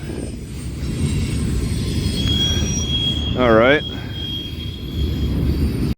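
A train in Poplar Bluff, Missouri rolls past with a constant low, heavy rumble, and its wheels let out a loud, wavering squeal for about half a second midway. A short spoken remark is heard.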